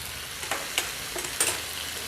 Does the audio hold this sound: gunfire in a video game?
no